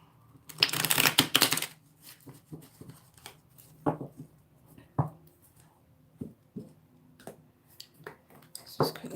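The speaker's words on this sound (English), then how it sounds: "Bear with me, guys, while I just shuffle." Tarot and oracle cards being shuffled close by, a dense riffling burst followed by softer, scattered taps and slides of cards.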